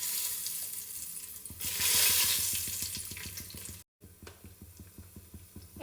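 Bay leaves and cinnamon, still damp from washing, hit hot oil in a home kitchen, giving a steady crackling sizzle that swells loudly for a moment, with rhythmic stirring or scraping taps underneath and no talk.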